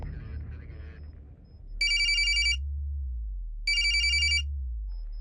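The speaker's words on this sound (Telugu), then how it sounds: "సార్ రింగ్ అవుతుంది." A telephone rings twice in a film scene, each burst a bright, clear electronic trill lasting under a second, with a low humming drone beneath and a muffled voice at the start.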